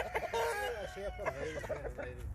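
Chickens and roosters squabble on a farm, with sharp repeated clucks and squawks in quick bursts, close and fairly loud, while someone talks over them.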